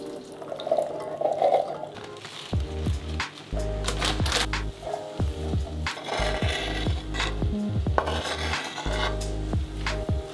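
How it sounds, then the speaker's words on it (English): Pasta water pours and splashes out of a pot held against its lid in an Airbnb kitchen, with metal rasping and scraping over a steady liquid gush and repeated clanks. "So I went to drain the pasta, it's ready, and there is no strainer."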